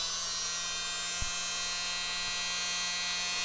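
A small handheld mini blower whirs steadily, pushing air across wet acrylic paint as a constant electric hum and hiss close by.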